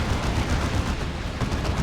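A chem cannon fires continuously in a Warhammer 40,000: Dawn of War 2 battle, a dense, rapid crackle of loud bursts and impacts with no break across the short stretch.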